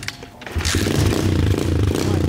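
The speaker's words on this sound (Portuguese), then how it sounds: "Barulho do motor" A small mini motorcycle engine running on aviation gasoline sputters, then revs up sharply into a loud, buzzing whine that holds steady close by.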